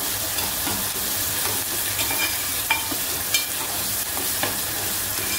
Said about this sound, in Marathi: टोमॅटो आणि कांदा शिजतोय त्याच्यातच आपण हे स्वच्छ धुवून घेतलेले बोंबील जे आहेत ते घातलेले आहेत मी